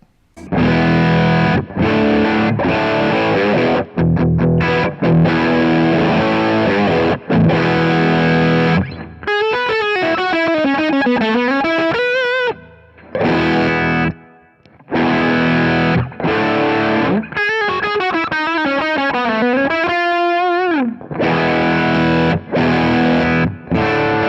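Electric guitar runs through stacked D&M Drive and OCD overdrive pedals, loud and heavily distorted, with chunky strummed chords broken by short pauses and sliding lead runs in between, and no talking.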